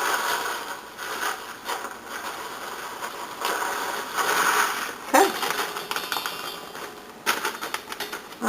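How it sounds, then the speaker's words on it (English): Sliced almonds pour from a cut-open bag into a bowl for homemade granola, giving soft rattling and patters in a few bursts with brief pauses, close and moderately quiet. "I'm going to pour my sliced almonds in."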